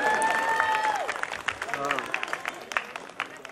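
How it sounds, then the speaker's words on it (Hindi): An audience claps and cheers for a children's dance at a sangeet celebration, with scattered claps and crowd noise under an announcer's voice and some music that fades out early. "जोरदार ताली हो जाए,"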